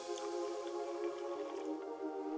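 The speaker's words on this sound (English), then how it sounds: "We'll add more water." Water poured onto a melting gallium spoon gives a steady, close liquid hiss with soft drips and squishy trickling throughout, no voices.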